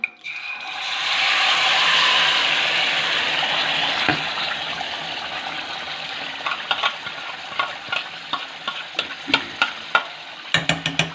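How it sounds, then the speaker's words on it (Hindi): Tikka chicken pieces drop into hot oil and fry with a loud, dense sizzle that swells then gradually thins, followed by a run of sharp clicks and taps near the end. "जी ऑयल हमारा गर्म हो चुका है। ये सारा चिकन जो है इसको मैं इसके अंदर डाल दूंगी।"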